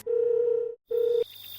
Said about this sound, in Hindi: फिर से दोस्त को फोन किया